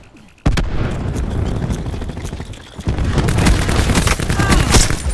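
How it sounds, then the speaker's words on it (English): Cluster grenade blasts from Call of Duty: Black Ops 4 in a Battery gameplay match: a sharp onset followed by a dense, continuous rumble of overlapping booms and crackling bursts, loud and sustained throughout. "Cluster grenade going out."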